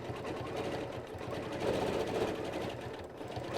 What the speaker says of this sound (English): I need to sew that way, basically pushing that way to get up towards the top.